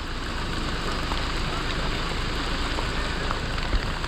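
Heavy rain pours down in a dense, unbroken hiss, loud and steady throughout with no pauses, in thick fog at Mahabaleshwar, Maharashtra.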